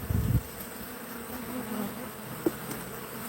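Honey bees swarm around brood frames in an open farm hive, a dense, continuous buzzing close by, with a soft handling bump at the start and a faint click partway through.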